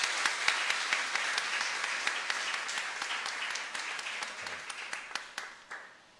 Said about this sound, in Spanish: Un aplauso para Rachel Andrea.